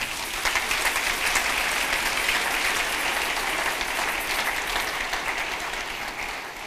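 A church congregation breaks into sustained, dense applause, many hands clapping steadily for several seconds in a reverberant hall with no voices over it.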